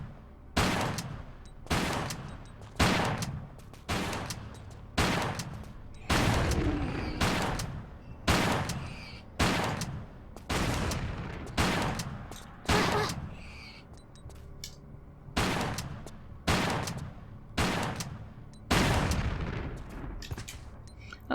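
Shotgun fire in a Tomb Raider level editor jungle ruins level: about seventeen loud, sharp blasts in a steady rhythm roughly a second apart, each with a short decaying tail and no talk.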